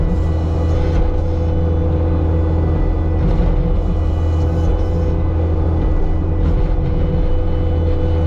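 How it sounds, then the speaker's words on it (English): A car passes on a rural road beside a stump-clearing job, a low steady engine rumble that swells gently and fades, heard at moderate distance over constant background hum. "There goes a car going by"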